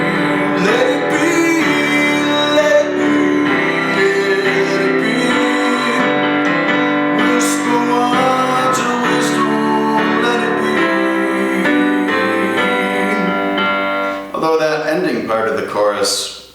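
Chorus of a song playing as a full, loud band arrangement with sung vocals and sustained chords, continuous until it thins out near the end.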